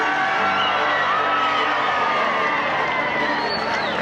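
A crowd applauds President Kennedy's arrival as he is flanked by Representative Jim Wright, a dense, continuous roar of clapping mixed with whoops and cheers that holds steady and loud throughout.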